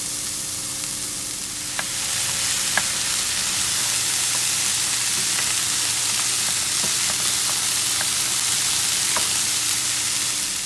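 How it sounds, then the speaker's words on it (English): Ginger, garlic, celery and Asian vegetables fry in a pan for a veggie stir-fry rice, giving a steady, loud sizzle with scattered crackles and pops and a faint low hum underneath, with no talking. "So I'm going to fry up the ginger and garlic and celery"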